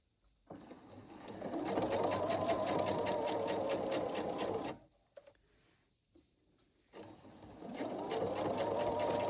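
Close, steady whirring of a sewing machine stitching a Valentine pillow runs in two bursts, separated by a short quiet pause before the motor starts up again.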